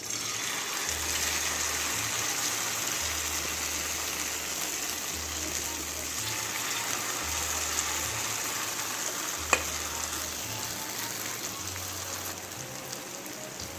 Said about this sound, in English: all of that I'm going to go ahead and fry